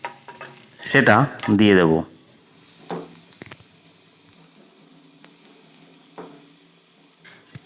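Crushed garlic cloves and slit green chilies frying lightly in a pan, a faint sizzle with occasional stirring clinks, following a short burst of speech near the start.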